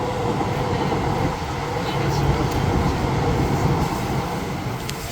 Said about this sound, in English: here comes the Gold Line train, coming right now